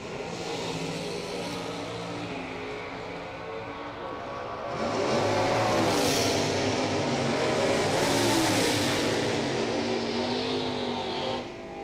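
Drag race cars at the Southern Sportsman Showdown roar past in a loud, continuous engine blast that swells in the middle as they accelerate down the track, heard from a distance with broad rumbling noise.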